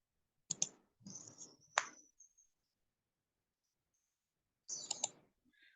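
Sharp computer mouse clicks, a few quick taps in a cluster and then a single click after a pause, close and crisp in an otherwise quiet room.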